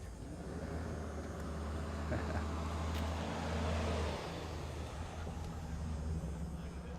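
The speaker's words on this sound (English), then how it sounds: "So we will have a little bit of traffic tonight." Night traffic on a city street near State Street rolls by as a steady low rumble of engines and tires, moderately distant and faint, swelling slightly before easing off.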